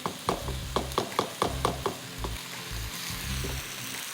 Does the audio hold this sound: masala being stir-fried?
yes